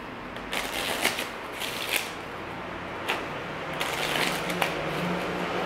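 Playing cards riffle and snap through repeated shuffles, crisp flurries of papery clicks with short pauses between bursts, close by.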